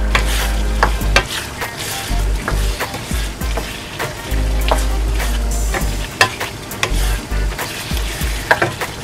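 Chayote sautéed with leftover lechon belly is stirred in a pan, a steady sizzle of frying broken by repeated scraping and clacking strokes of the spoon or spatula, close and fairly loud with no talk.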